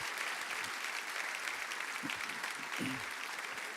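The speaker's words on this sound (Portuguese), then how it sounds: "vamos aplaudir essas vidas que estão vindo" A church congregation applauds people coming forward during a service, a continuous wash of clapping heard somewhat distant and soft, with a few low murmurs or voices underneath.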